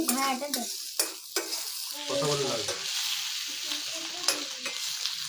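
Ridge gourd slices fry in hot oil with a steady sizzle, broken by sharp scraping stir strokes against the pan and brief background chatter from children nearby.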